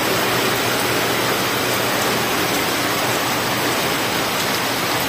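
Heavy rain pours down in a dense, unbroken roar, loud and constant throughout with no pauses or voices.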